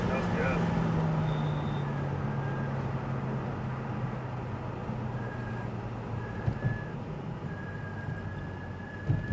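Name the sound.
Lamborghini Huracan braking on a track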